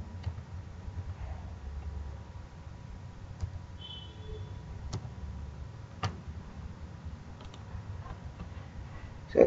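Someone types on a computer keyboard, producing sparse, faint, quiet clicks over low background hum, with no talking.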